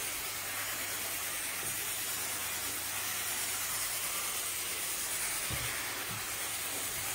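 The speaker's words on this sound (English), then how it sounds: "So we laying down that good old-fashioned pre-spray." Carpet-cleaning pre-spray is laid down through a sprayer, giving a steady, fairly quiet broadband hiss that runs unbroken throughout, with a couple of faint low knocks.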